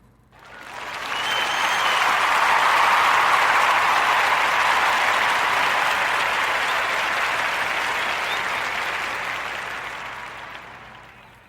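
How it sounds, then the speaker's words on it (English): Steady audience applause swelling quickly, holding strong for several seconds, then slowly tapering off, with no talking over it. "Join me to give these brothers a warm narrative podcast round of applause"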